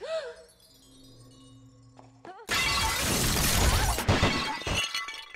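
A stock film and game sound effect of something breaking: a loud, dense crash of shattering glass bursts in abruptly after a quiet start, then clatters and tinkles for several seconds before trailing off.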